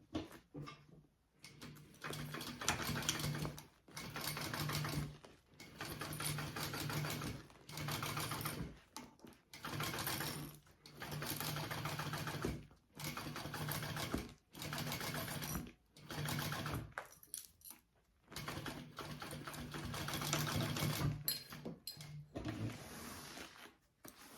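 A sewing machine basts fabric near a zipper edge, running in repeated bursts of stitching separated by short pauses, close and steady throughout.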